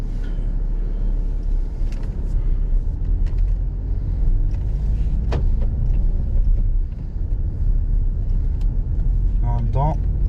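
Renault Megane 1.5 dCi diesel hatchback driving on the road after a service, heard from inside as a steady low engine and road rumble with faint rattles and a brief ticking near the end.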